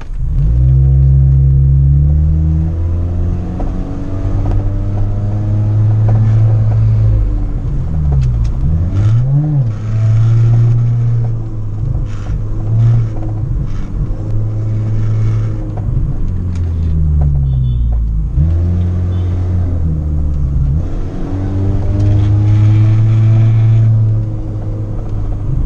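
A Hyundai i30 with a 2.0-litre four-cylinder engine and a stainless steel exhaust revs repeatedly, its deep, full-bodied rumble rising and falling in pitch, loud and close throughout with no talking.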